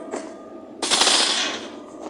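A shotgun blasts once in the horror video game Granny, a loud burst with a short ringing tail, preceded by a quieter click of game noise.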